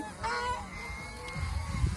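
Geese honk close by in a couple of loud, nasal calls over a brief stretch, with rustling farmyard noise underneath.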